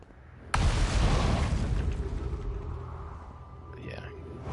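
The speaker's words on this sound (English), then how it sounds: "be contradicted instantly by a large explosion" A large explosion in a space video game hits with a sudden deep boom and then rumbles on loudly for several seconds, slowly fading while a faint voice is heard near the end.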